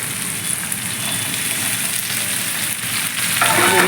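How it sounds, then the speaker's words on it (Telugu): Crushed tindora (ivy gourd) and tomato sizzle in a hot pan for curry, a dense, steady frying hiss heard up close that grows slightly louder at the very end. "ఇప్పుడు టమాటా వేగిపోతుంది కదా ఇప్పుడు ఏంటంటే చిరుముకున్న దొండకాయలు ఉన్నాయి కదా ఇవి కూడా వేసేద్దాం"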